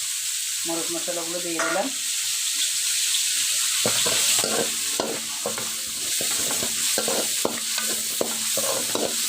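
Chili and spices frying in a pan give a continuous sizzle, broken by repeated scraping and clattering strokes of a spatula. A voice says a few words near the start.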